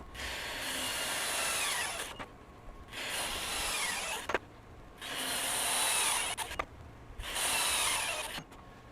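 Milwaukee M18 FUEL 2967 high torque impact wrench tightening large nuts to high torque, four loud hammering bursts of about two seconds each separated by short pauses.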